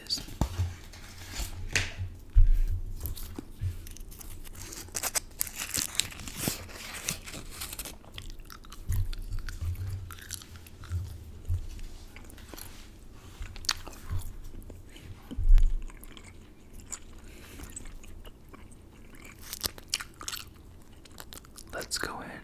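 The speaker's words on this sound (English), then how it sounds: "gum chewing video" Gum is chewed close to the mic in an ASMR session, giving soft, irregular wet smacks and clicks with a few louder bites, spread across a quiet background.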